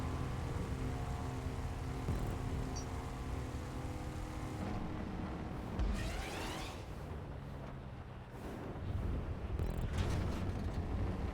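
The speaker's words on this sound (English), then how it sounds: "even though this is a completely enclosed tube, the rain still gets in somehow" Steady rain in GTA V Online falls inside an enclosed tube during a race, a continuous broadband patter and wash at moderate level with a low rumble underneath and no talk.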